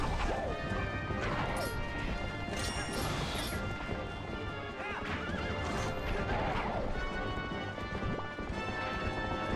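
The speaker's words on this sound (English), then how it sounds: "Link, get off your fucking horse!" Horse neighs and galloping hooves from The Legend of Zelda: Twilight Princess mix with crashing combat impacts in a busy, loud game scene, several whinnies rising above the constant clatter.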